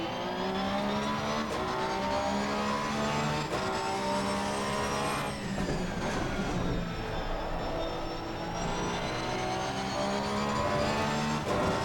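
A 2018 Porsche 911 GT3 R race car at Monza in Assetto Corsa Competizione, its engine droning loud and steady throughout, with rising and falling revs, gear shifts and a brief rougher stretch midway, and no talk.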